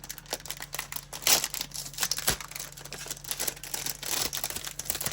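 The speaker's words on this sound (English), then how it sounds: "Let's unwrap them." A pack of tiny paper tags is unwrapped up close, giving bursts of crinkling and crumpling plastic or paper with small tearing rustles, fairly quiet and irregular.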